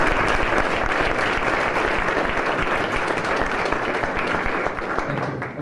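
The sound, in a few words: audience round of applause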